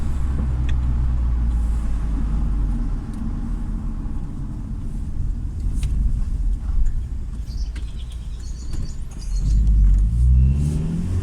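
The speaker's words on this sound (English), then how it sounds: "let that car behind me go past me" A car on a country road near Thaxted and Saffron Walden roars close by as it accelerates past, a loud low engine rumble swelling and fading, with a heavier rise near the end and no talking.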